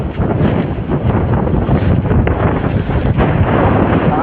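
Loud, steady wind blasts across a microphone at a waterside overnight fishing spot, a dense unbroken rush with slight gusting and no talk.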